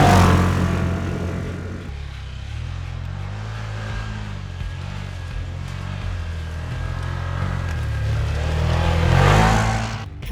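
A 2025 Can-Am Outlander XT-P 1000R ATV with a 101-horsepower engine growls close by as it accelerates, its note rising, dipping, then surging louder toward the end.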